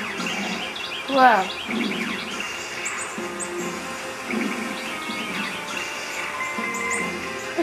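Birds chirping in the video game Dark Cloud 2, a steady bed of small tweets and calls over ambient game sound, with a brief exclamation from a voice early on.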